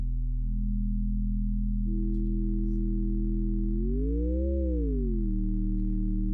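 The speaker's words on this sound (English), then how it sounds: "just a bunch of sine waves that are running together." Layered pure sine-wave tones from an additive synthesizer hum together steadily, then bend upward and back down in a smooth swoop before settling into a sustained drone.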